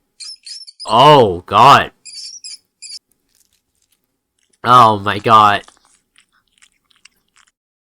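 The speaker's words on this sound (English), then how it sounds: "The mouse's pain squeaks and squeals pierce through you until they are abruptly cut off." Sharp squeaks and squeals from a mouse being eaten by a cat in a video game, in two short bursts, loud and close, with a voice exclaiming in between.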